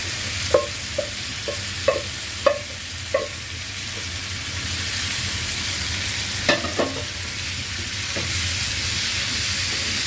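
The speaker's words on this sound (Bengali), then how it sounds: "এই বটের সাথে আমি ভালো করে ভেজে নেব এটাকে।" Beef tripe fries with onions and spices in a pan, a steady sizzle broken by a series of sharp spoon scrapes and clatters as it is stirred, some clustered early and a few more later.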